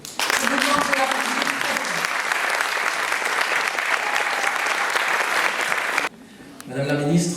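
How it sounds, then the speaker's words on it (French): Sustained audience applause at a civic ceremony honouring a city's new mayor, loud and dense for about six seconds, then dropping briefly before a renewed burst of clapping with some voices mixed in. "Je vous demande de l'applaudir"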